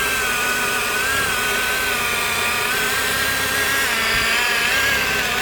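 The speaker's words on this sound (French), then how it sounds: "Non, mais arrête de percer à l'intérieur de la cabane." A power drill bores into a wooden cabin, a steady whirring motor tone running unbroken and fairly loud throughout, with no talking.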